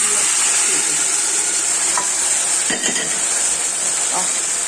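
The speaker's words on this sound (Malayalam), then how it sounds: "നമ്മുടെ കടുകൊക്കെ പൊട്ടി അപ്പോൾ കറിവേപ്പിലിട്ട്" Mustard seeds crackle and spit in hot oil in a pan as curry leaves fry, a steady loud sizzle with a few sharp pops and faint utensil clinks, made while preparing a duck stew.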